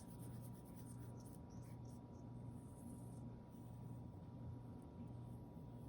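A pencil drawing lightly on grid paper, a soft, continuous scratchy rubbing close by at low volume, with faint background hum and no talking.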